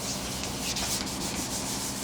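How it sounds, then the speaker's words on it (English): Fine abrasive rubbing on a wooden guitar neck between French polish coats, a continuous close hiss of sanding strokes with no voices. "It's like sanding in between when you do like a normal finish, sanding in between the layers of the coats."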